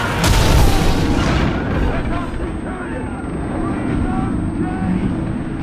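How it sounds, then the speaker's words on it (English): Incendiary projectiles explode around a Roman fleet in Ryse: Son of Rome, a heavy booming blast up front followed by a rolling, roaring rumble of fire and wind-like noise. "Incendiaries incoming! Swing wide! Swing wide!"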